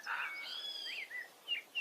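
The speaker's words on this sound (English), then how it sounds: "I love those birds." Birds chirp and trill faintly in the distance during an outdoor soundwalk, in a quick run of short, high calls and tweets over a soft background hush.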